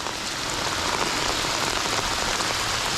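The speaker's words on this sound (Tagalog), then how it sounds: "Sobrang lakas na ng ulan." Heavy rain pours steadily onto a surface, a dense, continuous roar of drops with no pauses, loud and close throughout.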